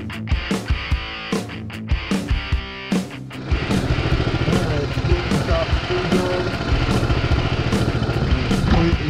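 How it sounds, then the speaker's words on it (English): Stock-engined Coleman BT200X mini bike running on a street ride, its small single-cylinder engine revving and droning steadily close by after a few sharp bursts at the start. "Completely stock engine, so it's going to be slow."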